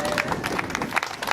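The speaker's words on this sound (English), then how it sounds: "So let's give her a round of applause, can we?" Audience applause at a mayoral candidate event in Oxnard, a steady wash of clapping from a crowd, fairly close and even throughout the short stretch.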